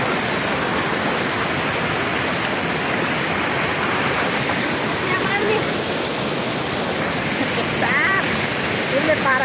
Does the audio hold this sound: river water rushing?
yes